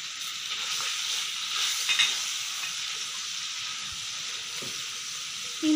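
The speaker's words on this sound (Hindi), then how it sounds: "इसमें हम शामिल कर देंगे भिंडियाँ फ्राई होने के लिए" Okra pieces fry in a pan with turmeric powder, giving a steady, loud broadband sizzle and hiss throughout, with faint stirring clinks near the end and no talk.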